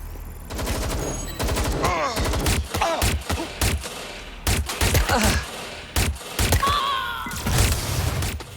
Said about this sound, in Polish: Ciężko ich zestrzelić strasznie.